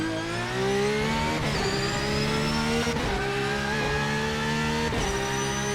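A GT3 race car engine in a video game screams at high pitch, climbing through gears with brief dips between shifts, loud and continuous with no voices.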